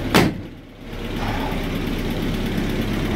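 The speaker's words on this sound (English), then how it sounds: "Probably should turn the idle speed up a tiny bit." A Land Rover Series IIa engine idles with a steady low rumble after a short sharp noise at the start, close and continuous with no talk.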